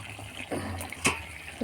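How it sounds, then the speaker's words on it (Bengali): Water poured into mustard paste during cooking makes a short, close trickle and splash, with a quick liquid burst in the middle and soft kitchen noise around it. "একটু জল দিয়ে"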